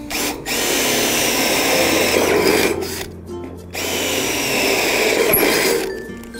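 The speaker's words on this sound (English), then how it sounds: "And drill it out with your 10mm bit." A power drill fitted with a 10mm bit drills out a hole in a steel carport cross beam, running in two loud sustained bursts separated by a short pause.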